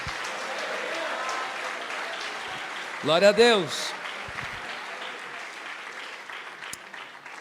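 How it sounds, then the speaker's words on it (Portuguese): A church congregation applauds during a sermon, a dense wash of clapping that holds steady, then fades away while a preacher's voice rings out loudly over it. "então aplaude dando glória a Deus."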